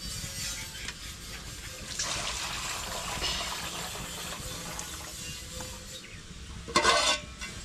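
Rice being rinsed by hand in water in a home kitchen, a steady close swishing and sloshing with a brief louder splash near the end, no talk.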